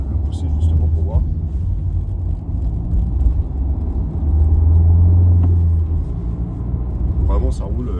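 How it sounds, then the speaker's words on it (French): A Renault Clio IV 75 hp Energy hatchback accelerates through town, its engine a low, steady rumble that swells midway, with someone talking over it. "je vais tester le véhicule, c'est-à-dire que je vais le pousser un peu au niveau de la vitesse"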